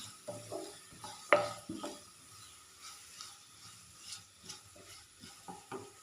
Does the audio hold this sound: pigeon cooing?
no